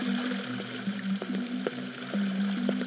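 Water pours and splashes steadily in a video game, a continuous mid-loud liquid rush with small splashy pulses throughout and no talk.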